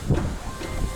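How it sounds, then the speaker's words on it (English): A train hisses with a steady, close steam-like rush at a station in Novosibirsk, a brief continuous sound with faint rumble underneath. "That was our train"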